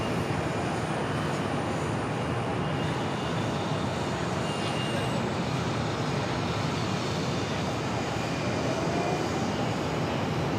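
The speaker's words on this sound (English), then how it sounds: "You have a Delta A220 touching down." A Delta Airbus A220 airliner touching down on a runway at an airport, heard as a steady, loud, broad roar of engine and air noise that holds evenly from start to finish with no voices.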